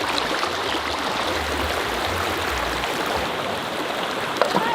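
Feet splash and paddle in a cool mountain river stream, heard as steady broadband rushing and trickling water with low churning swells, close and continuous throughout.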